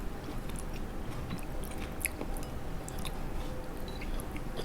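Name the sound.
chewing crunchy fresh vegetables like cucumber and carrots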